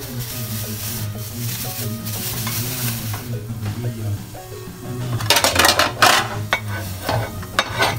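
Chayote sautéing with ground pork in a pan, giving a steady sizzle with scraping stirs and a utensil clattering against the pan, growing louder and busier toward the end, while a person talks over the cooking.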